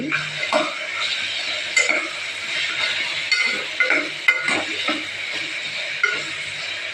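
A spoon stirs a paste of ground ginger, garlic, pepper, cumin and fennel in a pan for a cauliflower-peanut gravy, with steady scraping, gentle sizzling and occasional metallic clinks up close.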